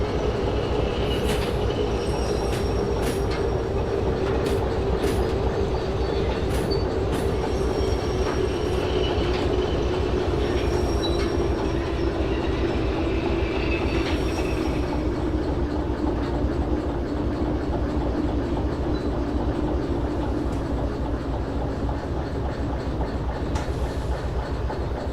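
A locomotive in the Derail Valley train game backs slowly with a string of empty military boxcars toward an acetylene car, giving a steady loud rumble of rolling wheels with repeated clicks and metallic squeals throughout.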